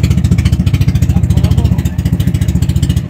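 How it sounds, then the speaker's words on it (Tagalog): An engine with a faulty carburetor runs rough and misfires, giving loud, close, rapid uneven chugging pulses with clattering throughout, and no talk. "Naku po, palyado carburador."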